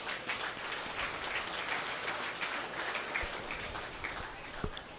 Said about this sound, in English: let's give them a nice round of applause too.